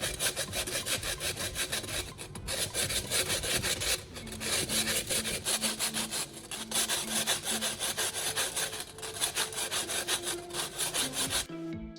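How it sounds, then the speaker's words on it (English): Sanding the sharp cut metal edges of an opened electric kettle: steady, rhythmic abrasive strokes rasp back and forth up close, continuous and alone, ending abruptly. "I'm sanding the sharp metal edges thoroughly."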